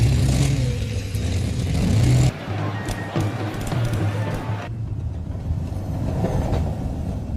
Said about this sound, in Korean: 지하철 소리도 그대로 들어갔죠?